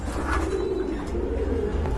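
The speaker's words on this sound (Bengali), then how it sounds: "এক জোড়া কোকা কবুতর আছে" Pigeons cooing softly in a loft, a pair of Koka pigeons of the Gobinda type, their low steady calls continuing throughout at close range with no voices.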